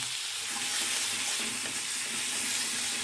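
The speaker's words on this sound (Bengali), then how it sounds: "এই পেঁয়াজের সুন্দর পেঁয়াজটা হালকা ভেজে নেবো প্রথমে।" Grated onion lightly frying in a pan for a Bengali fish curry with beans, a steady close sizzle with soft crackle and occasional stirring scrapes, continuous and without talk.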